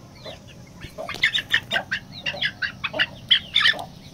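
A hen with young aseel chicks clucks close by, a rapid run of short, sharp calls repeating in a quick, uneven rhythm over a low background hum.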